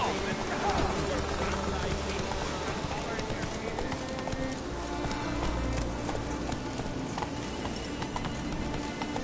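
A horse gallops in The Witcher 3 video game: rapid, continuous clip-clop hoofbeats over mixed game ambience throughout, with a voice speaking briefly over them.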